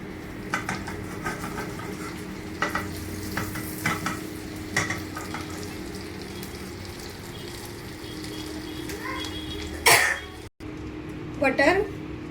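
Butter sizzles in a pan over a gas flame while butter chicken is being made, a steady frying hiss under intermittent talk, with scattered clinks and scrapes of a utensil against the pan and a brief sharp clatter near the end.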